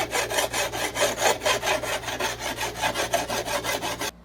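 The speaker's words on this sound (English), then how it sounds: "I give it a rough pass with just a file first" A hand file rasps rhythmically over an Osage orange wood bow, smoothing down glue bumps and sinew in steady back-and-forth strokes, close and loud, about eight passes before stopping abruptly.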